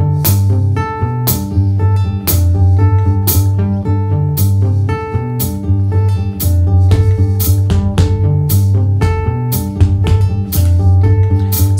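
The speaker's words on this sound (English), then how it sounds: "What you are hearing is an overdub, and what I did was a recording on top of my bass." A bass line looped and overdubbed on an Ortega Quantumloop looper pedal plays steadily with layered repeating notes and sharp percussive hits, loud and continuous with no talking.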